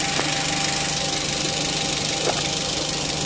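A car engine idles steadily, a low continuous rumble with a faint rhythmic knock, heard close and without talk.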